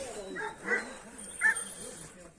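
Several dogs give short yips and whimpering barks in two or three brief bursts, fairly quiet, while people talk nearby.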